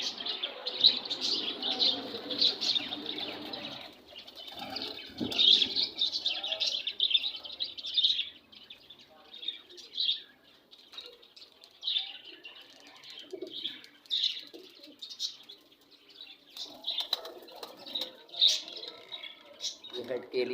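Pigeons in a breeding loft with eggs coo softly and chirp in repeated bursts, with other birds chattering nearby and someone talking over them.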